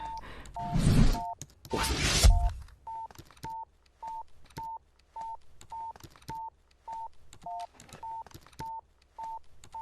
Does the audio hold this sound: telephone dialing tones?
yes